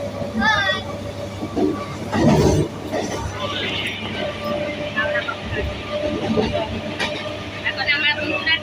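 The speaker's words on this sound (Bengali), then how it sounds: "এখন আমরা বন্ধুরা ট্রেনে যাচ্ছি।" Ride aboard a train bound for Howrah, Kolkata, with a steady rumble of wheels on track and rattling carriage noise throughout. Passengers chatter nearby over the din.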